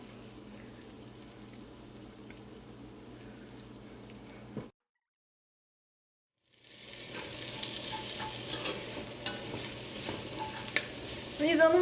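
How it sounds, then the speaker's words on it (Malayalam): Shallots, garlic, ginger and curry leaves sauté in coconut oil left from frying prawns for a prawn roast, giving a steady close sizzle that cuts out briefly, then returns louder and busier, with no talking. "ഈ സെയിം വെളിച്ചെണ്ണയിലേക്കാണ് ചുവന്നുള്ളിയും വെളുത്തുള്ളിയും ഇഞ്ചിയും കറിവേപ്പിലയും ഇട്ടിട്ട് വഴറ്റാൻ വേണ്ടി പോണത്"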